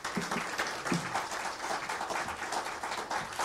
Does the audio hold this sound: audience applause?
yes